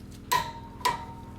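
Two sharp, separate clicks from a torque wrench setting a caliper bracket bolt to 59 foot-pounds on a Mercedes/Dodge Sprinter's rear brakes, each crisp and close with a quiet pause between them.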